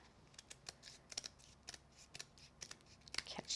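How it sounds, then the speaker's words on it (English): Scissors trim paper or card during a papercraft background project, with a quick series of crisp, close snips and short cuts at an irregular pace and no talking. "you're just going to angle your scissors around this and trim it away"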